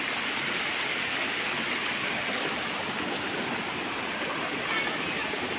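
Water rushes steadily through a clear, cold stream at Bride's Pool, a constant bright hiss of flowing water close by with no clear talk over it.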